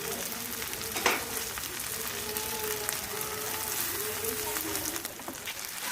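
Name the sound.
stirring and frying homemade noodles in a pan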